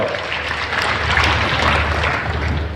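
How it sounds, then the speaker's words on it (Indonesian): A large audience at an official inauguration ceremony in Bali applauds steadily, a dense continuous wash of clapping that holds at an even level throughout. "Tepuk tangan untuk beliau"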